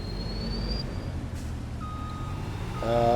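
Truck in Farming Simulator 22 with a steady low engine rumble and repeated high reversing beeps, a louder engine surge near the end.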